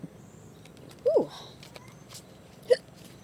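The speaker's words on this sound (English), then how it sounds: "Sorry, I've got the hiccups now." Two quick hiccups from a person, the first at about one second and a sharper second one near the end, each brief and fairly distinct over a quiet room background.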